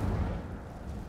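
An Incendio fire spell cast in a wizard video game makes a short, soft, low rumbling whoosh that gradually fades.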